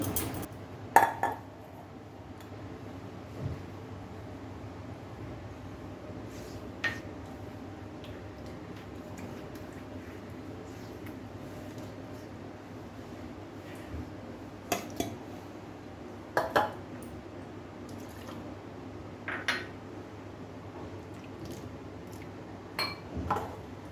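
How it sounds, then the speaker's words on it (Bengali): A large bowl and metal utensils being handled in a home kitchen while making okra in mustard sauce: scattered sharp clinks and knocks of dishes and cutlery over a quiet background, spaced irregularly across the stretch. "তার জন্য আমাকে একটা বড় বাটি নিতে হবে, একটু বড় বাটি নিই।"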